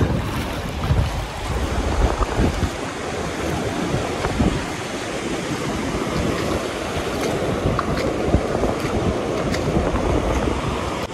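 Sea waves surge at high tide on Antarvedi beach, a continuous broad wash of surf with heavy wind buffeting the microphone, loud and close with no voices.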